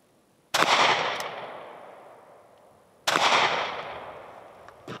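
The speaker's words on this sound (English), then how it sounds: "That's 5 shots." Shots from a North American Arms Pug mini revolver: two sharp, loud reports about two and a half seconds apart, each trailing off in a long echoing decay outdoors.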